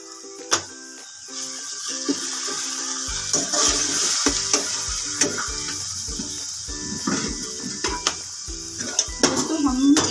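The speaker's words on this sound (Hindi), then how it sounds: "हम अच्छे से वेजिटेबल्स को सॉटे करके इसमें टमाटर भी साथ ही डालते हैं" Vegetables and tomatoes sauté in a pan over a low flame while pasta is being made. A steady sizzle runs throughout, with frequent clinks and scrapes of a utensil against the pan, close and alone without speech.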